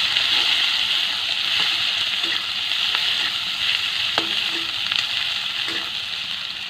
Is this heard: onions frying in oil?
yes